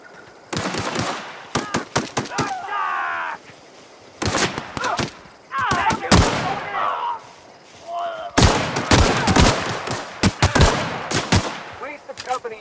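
Bursts of automatic gunfire in The Outer Worlds video game, loud and close, coming in several rapid volleys separated by brief pauses.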